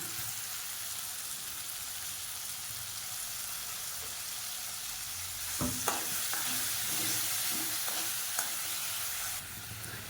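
Mango, tomato, curry leaves and onion sautéing in a pan for mango chutney, a quiet, steady sizzle running throughout, with a few brief stirring scrapes partway through.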